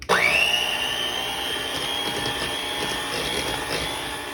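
An electric mixer starts up with a rising whine and then runs at a steady, loud, high-pitched hum while mixing brownie batter with eggs, with some faint rattling against the bowl.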